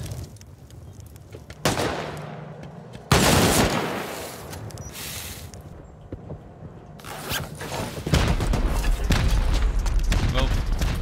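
Raid base turrets firing in a video game during a pyramid base raid, bursts of gunfire and booms that come and go in loud bursts, with a voice talking over parts of it.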